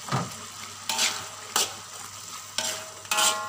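Mee goreng ingredients being stirred and fried in a wok, with a steady sizzle under repeated sharp scraping strokes of the spatula, about five in a loose rhythm, close and moderately loud.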